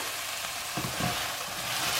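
Fresh peas and green chilies hit hot oil with garlic, a continuous close sizzle with brief stirring scrapes partway through, no voices.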